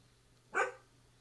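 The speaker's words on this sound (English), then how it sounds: "My dog's barking." A single short dog bark sounds once, fairly close and distinct over a quiet room background with a low steady hum.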